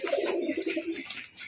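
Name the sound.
pigeons, male pigeon feeding its chicks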